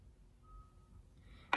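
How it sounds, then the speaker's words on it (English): A single high reversing beep from a truck backing up at nearby construction, thin and fairly distant against quiet room tone, followed by a brief louder bump. "when big trucks are backing up kind of beeping"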